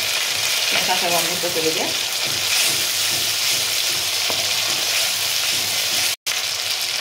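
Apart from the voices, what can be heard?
ginger and garlic paste sizzling in hot oil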